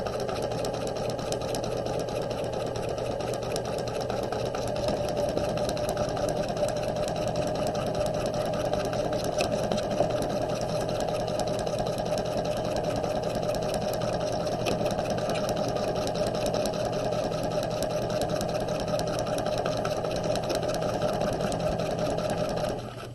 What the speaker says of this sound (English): we're going to back stitch, and then we're going to sew across the jacket front